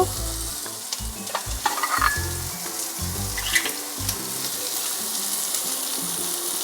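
A spoon stirs mixed lentil dal in a sizzling pan, giving a steady, close frying hiss with scraping strokes. A soft musical tone runs underneath, and no one speaks.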